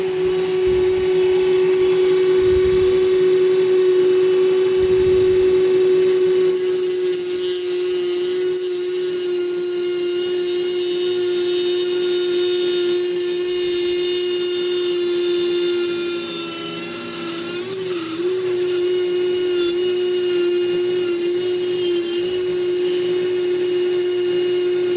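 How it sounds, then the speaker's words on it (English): A Dremel rotary tool fitted with a cutter runs continuously, a loud close high-pitched whine holding steady, with slight pitch dips where the cutter bites into the workpiece. "Got to put the cutter on my Dremel tool."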